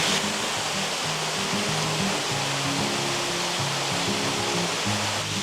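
Small waterfall beside a bike trail on the Great Allegheny Passage, a steady close rush of falling water filling the whole stretch with a dense, even hiss and faint low hum, no voices.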